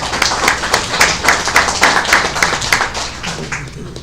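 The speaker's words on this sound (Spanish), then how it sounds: "Fuerte las palmas para él." Loud, close applause from a group, with individual claps landing in a quick, fairly regular rhythm before tapering slightly toward the end.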